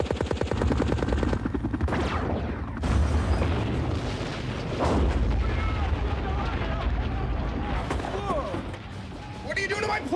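Artillery and gunfire in a video game, rapid loud bursts and heavy booms repeating across the clip, mixed with sound effects and voices.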